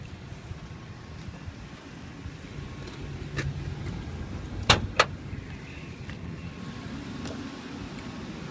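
A billboard truck's engine idles in a low, steady, quiet rumble heard from outside near the engine compartment, with a couple of sharp clicks midway and no talking.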